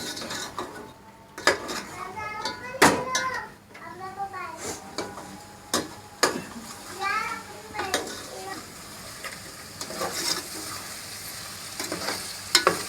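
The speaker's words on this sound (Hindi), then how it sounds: "जैसे मसाला देखिए भुनने में आ रहा है ना, इसी पर मसाला थोड़ा सा भुन जाए।" Masala sizzles and fries in a pan for chicken nihari, with a spoon stirring and scraping against the metal in repeated strokes, close and fairly loud, while voices talk over it.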